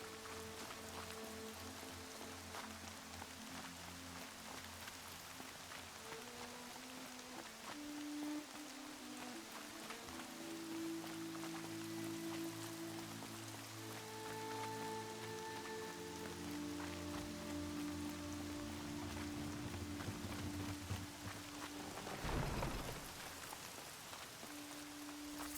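Steady rain pours in the Horizon Zero Dawn Remastered game world, a continuous soft patter under low sustained musical tones, with a brief louder rumble-like burst late on.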